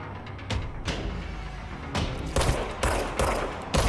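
Gunfire in the video game Control comes as a series of sharp, loud shots and short bursts, separated by brief gaps and heard up close.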